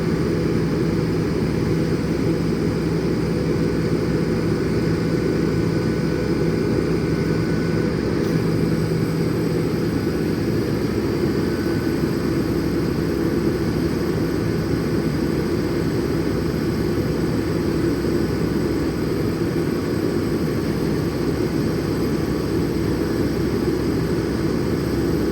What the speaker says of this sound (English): Let the winch down a little bit.